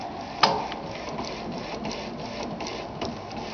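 A T-Jet DTG printer prints onto a dark hoodie, its print head shuttling with a sharp click at the start and then repeated soft whirring passes and periodic ticks at a steady rhythm, close and moderately loud.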